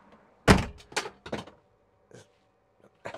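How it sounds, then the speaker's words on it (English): Several dull thunks from a Citroen Ami's door being slammed shut, one sharp loud knock followed by softer, quicker knocks and a couple of faint taps, close by with no talking. "slam the door, and then that's it off"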